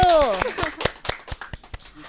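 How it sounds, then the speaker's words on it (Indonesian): A handful of people clap in a podcast studio, about ten sharp separate claps in a loose beat, close and dry, with a voice talking over the first moments. "Nah, tepuk tangan dulu."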